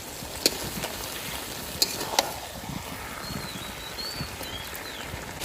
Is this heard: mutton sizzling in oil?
yes